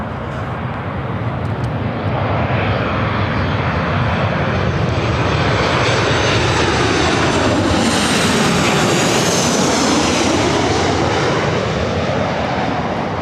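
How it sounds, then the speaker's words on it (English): An Alaska Airlines Boeing 737-900ER arriving from Portland lands at Spokane, its jet engines producing a loud, continuous roar that swells and shifts in pitch as it passes close by. "This arrival is Alaska Airlines 1172 coming in from Portland on the 737-900ER. Spokane touchdown."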